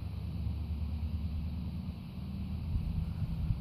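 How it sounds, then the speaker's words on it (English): Gusty wind buffeting the microphone outdoors in a backyard during bow drill fire making, a low rumbling roar that swells and dips over a few seconds. "it's kind of windy out here."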